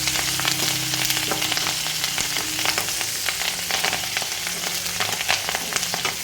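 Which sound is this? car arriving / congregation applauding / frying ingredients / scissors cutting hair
frying ingredients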